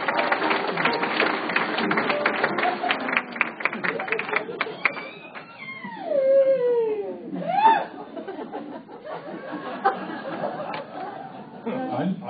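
A bull elk roars during the rut at Point Reyes, a single rising-then-falling whistling bugle heard after a stretch of talk and clicking, with murmured voices around it.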